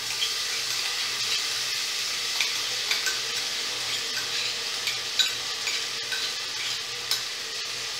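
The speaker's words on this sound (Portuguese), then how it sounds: "Agora eu vou pôr a lentilha para refogar aqui também." Onion, garlic and lentils fry in a pan with sausage and bacon for lentil soup, giving a steady close sizzle with light scraping stirs and small ticks throughout, no voices.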